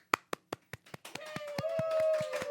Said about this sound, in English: That was a muted clap.